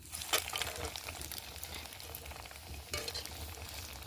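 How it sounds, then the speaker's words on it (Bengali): Rohu fish pakoras, coated in egg and biscuit crumbs, sizzle steadily in hot oil, with louder crackling bursts as pieces are dropped in near the start and again around three seconds. "এবার আমি গরম তেলে ছেড়ে দেবো"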